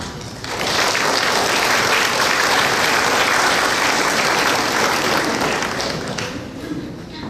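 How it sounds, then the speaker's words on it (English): An audience gives a warm round of applause at a community welcome event, with dense, loud, sustained clapping that rises quickly, holds steady for several seconds and then tapers slightly at the end. "give them a warm round of applause"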